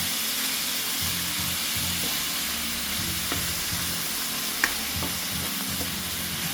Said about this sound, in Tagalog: So, ako na ipaloto ang karne.